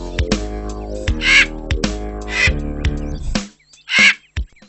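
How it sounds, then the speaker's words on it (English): A crow caws in a run of loud, harsh, rasping calls, several in quick succession and close by, ending with a couple of sharper clipped caws. "The crow makes that distinctive crowing sound."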